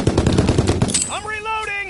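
Rapid machine-gun bursts in a World War II shooter, loud and close for about a second, then cut off as a short whistling, tonal effect rings out and fades.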